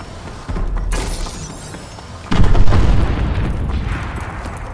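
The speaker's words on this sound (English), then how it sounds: "Friendly missile strikes incoming." Missile strikes exploding in the Call of Duty: Advanced Warfare video game, a loud booming blast followed by a second, heavier rumbling explosion that rolls on for a couple of seconds.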